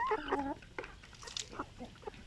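Basilan hens on a farm clucking softly, a few short, close calls, with a person talking faintly nearby.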